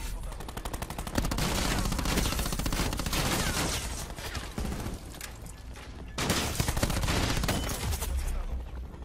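Rapid automatic gunfire from a gun in Call of Duty: Black Ops 4, loud sustained bursts with a short break midway, firing almost continuously throughout.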